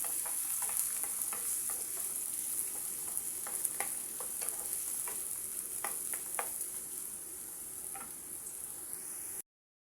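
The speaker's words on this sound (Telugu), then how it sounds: "ఇప్పుడు ఆయిల్ వేడైన తర్వాత ఇందులో తెలగడ్డ ఎరగడ్డ రెండు వేసేసుకోండి వేసేసి బాగా అంతా కలబెట్టండి" Onion and garlic fry in hot oil for a chicken liver dish, a steady close sizzle with occasional scraping clicks of a spoon stirring the pan, continuing alone before cutting off abruptly.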